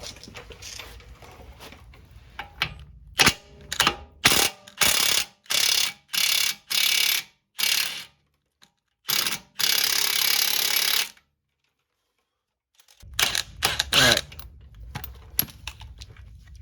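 A ratchet spinning out the 21 mm lower control arm bolt on a 2012 Audi Q5 2.0T, in a run of rapid clicking bursts with short pauses, a long gap, then a final flurry, close and loud.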